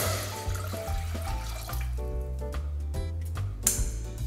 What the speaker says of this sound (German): Jetzt wir anfangen, Wasser in den Topf eingeben.